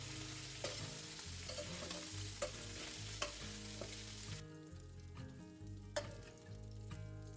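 Meatballs frying and browning in oil in a pan, a steady close sizzle with occasional stirring clinks and scrapes, no voices.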